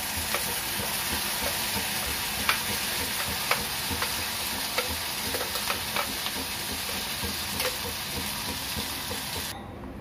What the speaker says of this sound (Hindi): ये हमारी ग्रेवी हो रही है, अब सिक रही है।